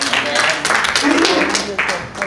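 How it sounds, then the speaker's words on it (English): Church congregation clapping hands during a Sunday communion worship service, a steady, dense wash of claps that runs throughout, mixed with voices and crowd noise. "Clap your hand. You got to praise it."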